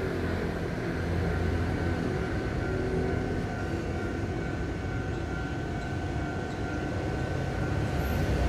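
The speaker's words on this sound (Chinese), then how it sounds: "有列车通过" A long mixed freight train passes close by, double-headed by an E316 electric and an R170 diesel-electric locomotive and hauling cement hoppers, open wagons, a covered wagon, a power car and a caboose. It makes a loud, steady rumble and rolling clatter with no pauses.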